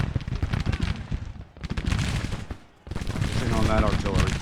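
Artillery and musket fire in the Civil War strategy game Grand Tactician: The Civil War, with dense, rumbling booms and crackling volleys rolling across the field, a brief lull in the middle, and a voice speaking over the din.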